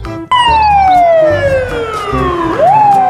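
Toy fire truck siren: a loud electronic wail sweeping steadily downward in pitch, then jumping back up near the end, continuous with no talking.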